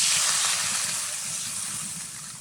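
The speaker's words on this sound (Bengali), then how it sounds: "এবার দিয়ে দেবো পরিমাণ মতো জল।" Water poured into a pan of cooked spice mixture for a papad curry, a hissing, sizzling gush that fades slowly over a couple of seconds, close and fairly soft.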